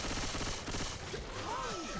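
Dense, sustained gunfire in the video game Left 4 Dead 2 fills two seconds with a rapid, rattling barrage, loud and close, with a faint voice underneath.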